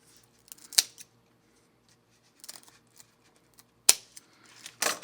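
Sharp snips of scissors trimming protruding popsicle sticks off a homemade popsicle-stick lifting jack: three or four crisp, close cuts spaced apart, with quiet gaps between them.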